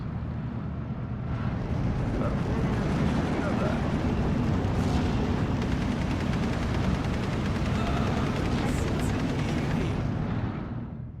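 Heavy World War 2 artillery fire in Steel Division 2 rumbles as a continuous deep roar of overlapping explosions, loud and sustained, with a voice occasionally talking over it.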